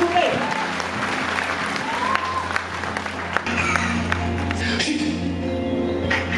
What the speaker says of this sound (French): vous pouvez l'applaudir très fort s'il vous plaît